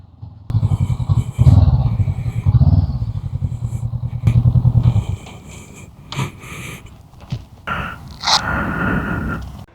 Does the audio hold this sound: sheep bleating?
no